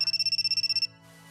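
A phone ringtone from the visual novel Kinkoi: Golden Time, a bright electronic melody repeating in rapid even pulses for most of a second, then cutting off into a soft, quiet background tone.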